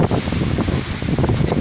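Strong gusting wind with heavy rain in Batangas, a dense, loud roaring wash of noise that surges and swells without pause.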